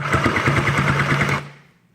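A Sew Cool Glitter Deluxe toy sewing machine runs spot stitches in a fast, even mechanical chatter that stops abruptly after about a second and a half.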